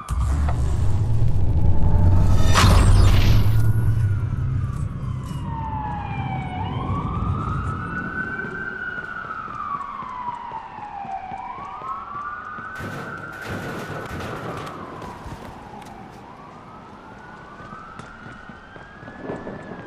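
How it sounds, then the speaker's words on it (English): Police sirens in the video game Watch Dogs wail and sweep up and down repeatedly, following a loud rumbling vehicle pass at the start, then fading slightly as they continue. "That's a lot of sirens for a blackout."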